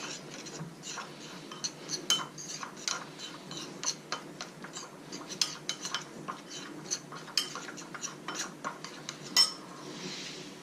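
A spoon mixing salt and spices through chopped vegetables for a butternut squash tagine, with quiet, irregular clinks and taps against the bowl repeating steadily throughout, close and soft, with no talk.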